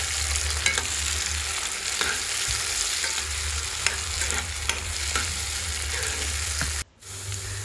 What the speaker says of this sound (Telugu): టమోటాలు కూడా బాగా ఫ్రై అయిపోయేంత వరకు ఖచ్చితంగా ఫ్రై చేసుకోవాలి.